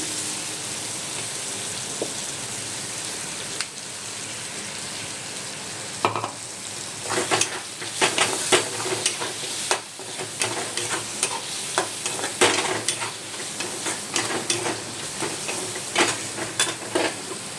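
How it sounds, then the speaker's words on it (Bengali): Garlic spice paste frying in a pan with goat fat while being stirred, a continuous sizzle with scraping strokes and bursts of crackling that grow busier after the paste goes in. "এটা আমি পেস্ট করেছিলাম, এটা দিয়ে দিচ্ছি। দিয়ে আমি নাড়ছি।"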